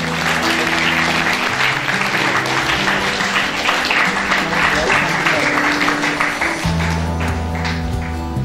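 Students in a hall at a literary fest give a keynote speaker a long, steady round of applause, with music playing underneath.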